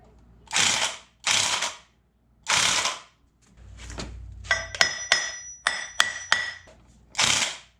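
An impact wrench works on a nut of a 1955 Ferguson 35 tractor, firing in several loud, sharp bursts separated by pauses, with a run of quick metallic ratcheting clicks in between, close up and without talk.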